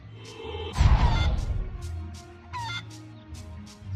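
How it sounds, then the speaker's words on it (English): Chickens cluck and squawk briefly in the PS1 game Harry Potter and the Chamber of Secrets over a low background hum, with a short burst of louder scuffling near the start. "Nothing here but those chickens."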